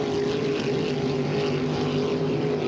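Hydro350 racing hydroplane boats in a heat at St-Félicien, their engines producing a continuous loud, droning roar with a steady buzzing tone, close and unbroken throughout, with no talking.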